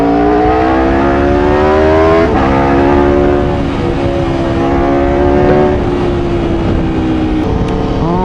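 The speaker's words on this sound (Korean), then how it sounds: "그러면 항상 시작하기 전에 하는 배기 사운드부터 시작해 보겠습니다." An Aprilia RSV4 RF sport motorcycle roars loudly while riding, its exhaust holding a strong, continuous engine note that rises and dips with the throttle, with wind and road noise underneath.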